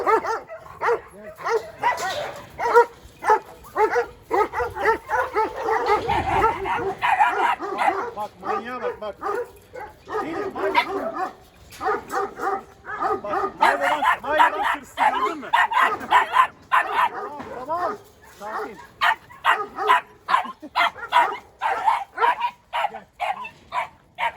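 A large female Kangal dog barks repeatedly in rapid bursts, loud and close, with yips and whimpers mixed in and people talking in the background.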